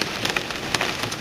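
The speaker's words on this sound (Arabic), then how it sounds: "البرد عنيف." Heavy hail and rain pound a vehicle on the road during a thunderstorm, a dense steady roar with sharp scattered impacts cracking through close by.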